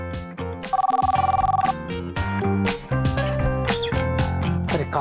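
A telephone bell rings in a short burst of rapid trills in a comedy sitcom scene, heard over loud background music and a brief voice.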